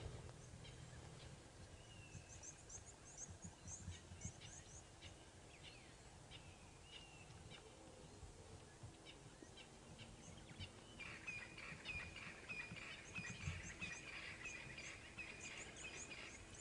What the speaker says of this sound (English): Here goes our starlings.